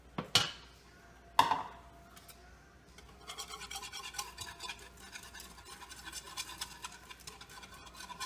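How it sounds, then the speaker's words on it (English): A metal spoon scraping gravy mixture from a bowl, opening with two sharp clinks against the bowl, then a long run of rapid, rhythmic scratchy scrapes, close and fairly quiet, with no talking. "I'm just going to use this spoon to scrape all the rest of that out of that bowl"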